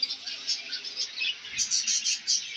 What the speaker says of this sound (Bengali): এই যে পাখি আছে বিভিন্ন ধরনের